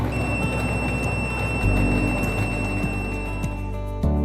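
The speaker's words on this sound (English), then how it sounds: "UTi716S will alarm when the measured temperature exceeds the preset temperature." A UNI-T UTi716S thermal imager sounds its over-temperature alarm, a steady thin electronic tone held under a constant low hum and faint background noise.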